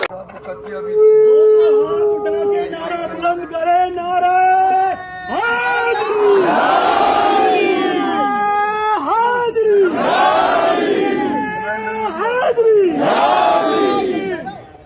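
A crowd at a gathering in Ajmer chants slogans in loud rhythmic surges, several bursts of massed voices rising and falling one after another, close and full over a steady background of voices.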